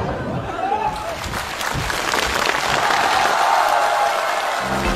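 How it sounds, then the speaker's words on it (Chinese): Applause for three performers on a televised comedy sketch stage rolls on as a steady, fairly loud crowd clap, with a voice speaking over it. "好，再次把热烈的掌声送给三位，谢谢。"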